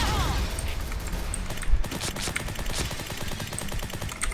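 Honey Badger light machine gun firing in a video game, a rapid, sustained burst of evenly spaced shots with one heavier boom partway through, loud and close.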